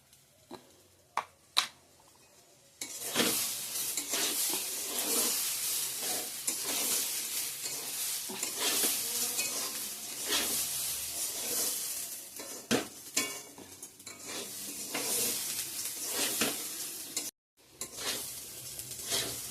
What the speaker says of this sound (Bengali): ভালো করে ভাজা ভাজা হয়ে গেছে। সব মশলাও অ্যাড করে দিয়ে দিছি